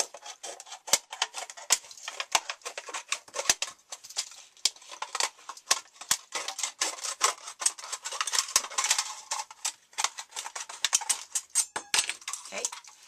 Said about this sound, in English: You're going to go ahead and cut around that edge.